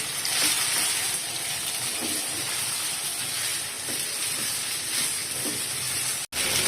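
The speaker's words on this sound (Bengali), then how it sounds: "এখন আমি পাস্তাটা দিয়ে দিচ্ছি।" Pasta goes into hot olive oil with fried chopped garlic, producing a continuous close sizzle and hiss that stays steady before a brief drop near the end.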